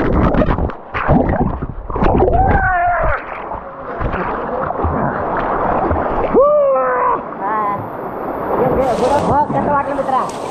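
A person jumps into the pool below a hidden, dangerous waterfall at Kalmandavi, and the water splashes amid the constant roar of the falls, with people talking and shouting close by.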